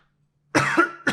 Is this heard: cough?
yes